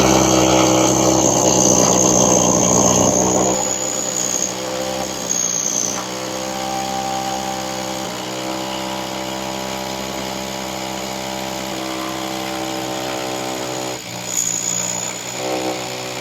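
A 2100 watt hammer drill bores a 50 mm hole straight through a wall, a loud continuous motor whine with rattling hammer action, steady for about sixteen seconds with brief load changes and no talking.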